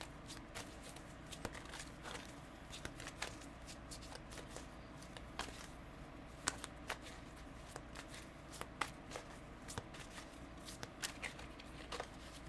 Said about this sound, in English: Let's mix up these cards.